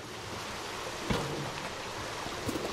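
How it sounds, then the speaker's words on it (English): In a cat video game, soft waterfall ambience with falling trash plays as a gentle, continuous watery wash, quiet and even, broken by a couple of faint clatters. "The soothing sound of trash falling, simmering waterfalls, no dangers."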